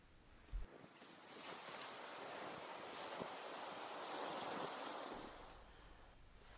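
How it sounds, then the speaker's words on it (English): Wind picks up on a beach at Dunwich while fishing, a broad whooshing gust with surf-like wash that swells in the middle and eases toward the end, with a brief bump near the start. "the wind is picking up"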